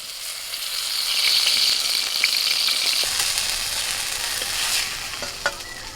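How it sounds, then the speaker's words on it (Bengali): Eggplant slices fry in hot oil with a steady, close hissing sizzle that swells and eases, along with a few faint clicks and stirring sounds. "সুমিতা গরম গরম বেগুন ভাজা।"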